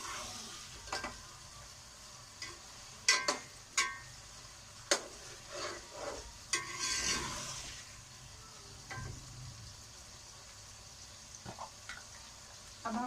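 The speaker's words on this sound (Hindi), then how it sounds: "5 मिनट के लिए हम इसे फ्राई करेंगे।" Red chili and spices fry in a pan for desi-style noodles, a steady soft sizzle with occasional sharper crackles and spatters, fairly quiet and close, with no voices.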